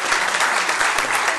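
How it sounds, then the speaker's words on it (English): An audience at a city council meeting applauds in a short, loud burst of continuous clapping from many people, steady from start to finish with no voices over it. "give her a round of applause"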